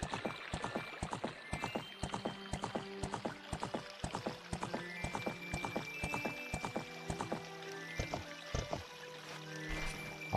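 A horse's hooves clip-clop in a video game, giving a steady, evenly spaced run of hoofbeats over melodic game music, fairly quiet, with no talking.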